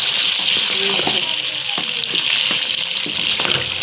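Mutton roasting in a pan gives off a steady, close sizzle with occasional stirring scrapes, and a voice comes through faintly underneath.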